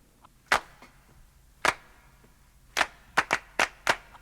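An audience clapping along to a song intro gives sharp, isolated claps, first widely spaced, then a quicker run of five near the end, with no music audible beneath them.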